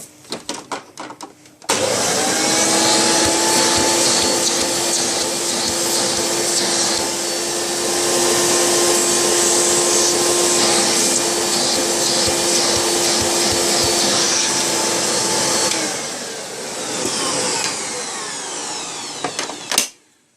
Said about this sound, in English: Let's just test the hose suction.